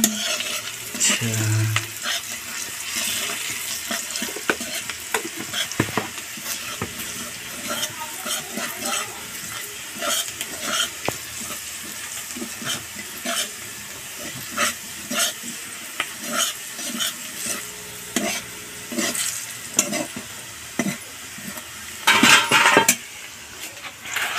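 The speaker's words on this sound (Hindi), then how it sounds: "हल्दी भी प्याज के साथ भुना जाता है ना?" Onion and turmeric fry and sizzle in a pan while a spoon scrapes and stirs steadily, with occasional clinks of utensils; a voice briefly speaks near the end.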